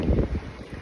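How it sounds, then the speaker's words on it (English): Wind buffets a microphone outdoors at night in a steady, rumbling low roar with uneven gusts, close and fairly loud, with no voices. "it's a little windy too"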